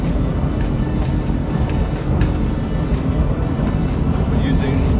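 Jeanneau Merry Fisher 1295 motorboat running at about 32 knots on autopilot, a steady loud engine drone and hull rush with wind buffeting the microphone, continuous throughout and up close, with a voice speaking over it.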